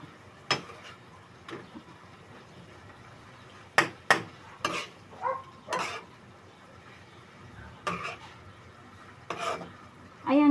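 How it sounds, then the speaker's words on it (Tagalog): Pork adobo with vinegar stirred in a pan, with intermittent scraping and clinking strokes of a utensil against the pan over a low sizzle, spaced irregularly and moderately close. "Ayan, haluin ko na."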